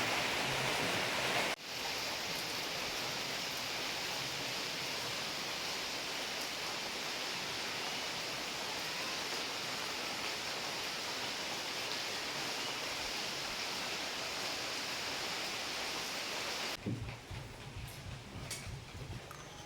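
Steady, dense hiss of rain falling, even and unbroken for most of the stretch, then cutting off to a quieter scene with faint sounds.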